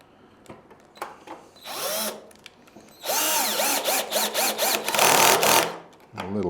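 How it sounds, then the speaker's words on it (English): Cordless power drill driving screws into a sewing machine stand during assembly, several short whirring bursts followed by a longer run of stop-start high-speed spinning, close and loud. "open this little bag of screws up, again with the drill"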